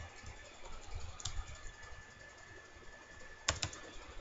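Computer keyboard typing while writing code, mostly faint scattered keystrokes, with a couple of sharper clicks in a quick cluster toward the end.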